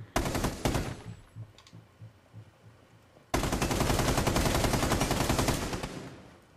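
Rapid Rainbow Six Siege gunfire: a short automatic burst, scattered lighter shots, then a long sustained volley of loud machine-gun fire.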